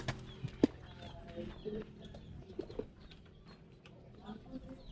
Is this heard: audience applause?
no